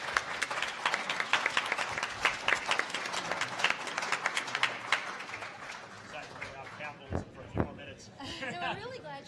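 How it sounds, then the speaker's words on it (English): Audience applause for a panel of speakers at a trade policy discussion, a dense round of clapping that builds and then thins out into scattered claps and murmuring chatter toward the end. "a round of applause for our wonderful panelists"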